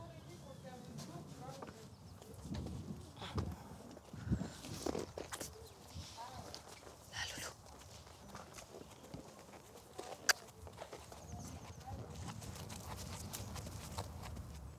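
Horse hooves clip-clop at a walk in a veterinary school equestrian centre, irregular moderate thuds with scattered stable noises, while a voice talks over them.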